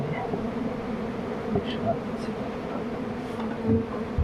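A steady, dense buzz of many honey bees fills the clip, close and continuous, with occasional individual bees passing nearby.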